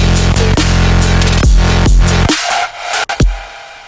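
The second drop of a dubstep track pounds loud and saturated, with thick growling bass stabs and abrupt rhythmic cuts, then the low end clears out near the end.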